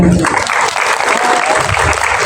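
A class of students applauds together in a classroom, a dense, steady patter of clapping that holds fairly loud throughout, with a brief voice at the very start.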